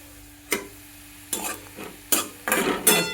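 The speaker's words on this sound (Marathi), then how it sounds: "चला आता आपण मोहरी घालून घेऊया, थोडे जिरे घालून घेऊया." Mustard seeds and cumin go into hot oil with browned onion, producing several bursts of sharp sizzling and stirring scrapes, separated by short pauses and growing busier toward the end, close up with no talking.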